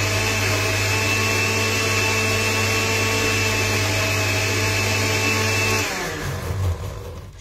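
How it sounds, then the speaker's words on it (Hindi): A kitchen blender runs steadily as it blends tender coconut, a loud continuous motor whine that holds for about six seconds before winding down and slowing to a stop. "तो यहाँ पर जो ये टेंडर कोकोनट है इसको मैं अच्छे से ब्लेंड कर लूंगी।"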